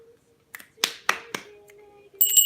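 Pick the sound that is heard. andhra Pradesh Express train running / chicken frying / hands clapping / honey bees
hands clapping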